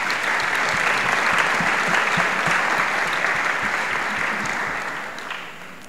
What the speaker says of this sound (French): Acclamons le Seigneur pour le repas.